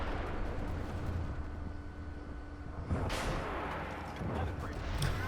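A tank in the video game Armored Warfare launches a missile, a sudden booming blast rising out of a low rumbling battle background, with a second shorter burst near the end.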